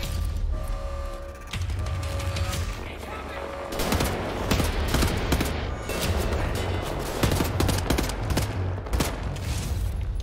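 Enemy gunfire in Wolfenstein: The New Order, rapid bursts of loud automatic shots and scattered single cracks repeating throughout, mixed with mechanical clatter over a low droning background.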